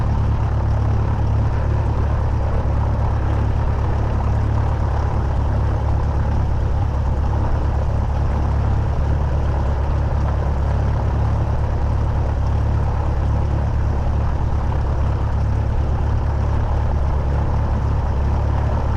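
Small airplane engine drones steadily from inside the cockpit, a heavy low rumble with a constant propeller hum that fills the whole stretch without a break.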